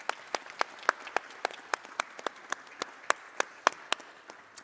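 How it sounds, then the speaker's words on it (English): Applause for the panelists at the end of an Intra-African Trade Fair 2021 session, heard as sparse, distinct claps from a small group at a steady rhythm, fairly close and alone. "I'd like to give my panelists a round of applause for their wonderful insights"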